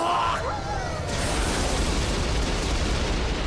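A single loud blast goes off in a video game, followed by a long, rumbling roar of debris that stays dense and steady to the end, with no voices heard over it.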